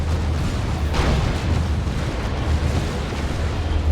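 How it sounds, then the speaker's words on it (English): Loud battlefield din from Dawn of War 2: autocannon rounds striking the rear armor of a Baneblade tank, a dense continuous roar of explosions and impacts with a sharper burst near the start. "Auto Cannon getting shots on rear armor of the Bane Blade"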